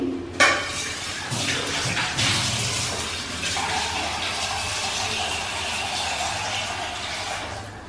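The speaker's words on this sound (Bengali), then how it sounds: "সো আগে জল দিয়ে নিই," Water pours steadily into a cooking pot being filled for boiling noodles, a continuous splashing rush with a brief clank near the start, with no talking.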